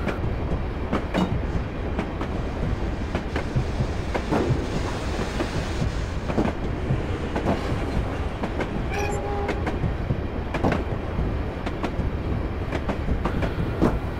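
A train runs past in a train simulator game near the River Wear, with a steady rolling rumble and repeated clickety-clack wheel beats over roughly fourteen seconds, moderately loud and with no voices.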